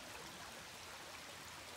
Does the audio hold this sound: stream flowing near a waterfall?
yes